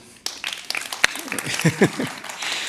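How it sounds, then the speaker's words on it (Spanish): Scattered hand claps break out from a church congregation while voices keep talking over them. "Un aplauso para Luis."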